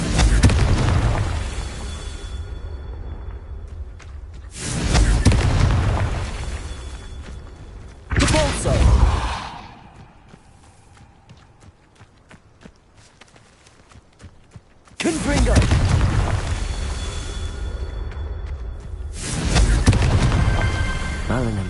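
Fiery spell blasts in the Hogwarts Legacy video game, several loud booming bursts with rumbling tails, separated by quieter stretches of footsteps and ambient game sound.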